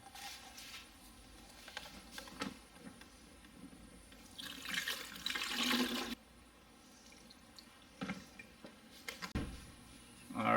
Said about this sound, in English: let's add some windshield washer fluid in there